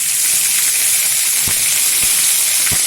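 Bright, steady hiss of ginger paste sizzling in hot oil after fried chilies, close and loud, with a few soft knocks.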